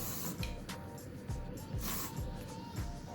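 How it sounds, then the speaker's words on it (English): Short hissing bursts of hairspray are applied to hair during a beach-waves styling session with curtain bangs. Several quick puffs are spaced irregularly at low level, with soft handling noise between them. "I'm just going to put some hairspray, a little bit of hairspray"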